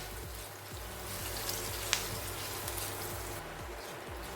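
Hot oil tempering with chopped green chillies and curry leaves crackles in a pan, a soft steady sizzle with faint pops and low hum underneath.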